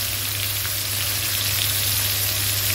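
Field rat frying with lemongrass and chili in hot oil: a steady, dense, close sizzle and crackle that runs continuously without pause, with no talk.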